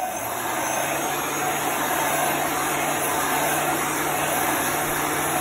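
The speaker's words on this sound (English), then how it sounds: "You just want to keep the heat gun moving." A steady, loud blowing whir of a heat gun drying chalk transfer work runs continuously without pause, with no voices over it.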